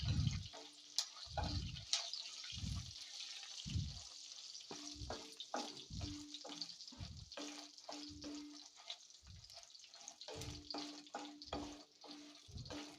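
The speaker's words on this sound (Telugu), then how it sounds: "ఇవి కొంచెం వేగిన తర్వాత అప్పుడు నువ్వులు జీలకర్ర మెంతులు అవైతే వేసుకుందాం" Sesame, cumin and fenugreek seeds frying in a pan for a sesame-coriander chutney, a steady soft crackle and sizzle with repeated low thumps from stirring throughout, close and fairly quiet.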